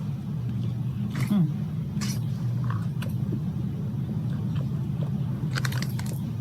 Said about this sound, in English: Crunch. This is a loaded twister.